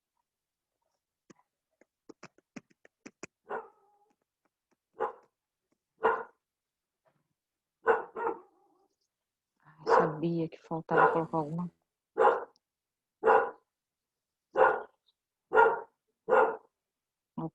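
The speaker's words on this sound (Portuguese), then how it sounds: "Olha o cachorro, oh meu Deus." A dog barks in repeated sharp bursts, fairly loud and close, with short gaps between them, during an online 8th-grade maths class, with a person talking around the barking.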